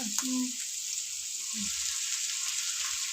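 Vegetable curry frying in a pan at home, a soft constant hiss of sizzling oil with a few faint clinks and brief low sounds early on, no clear speech.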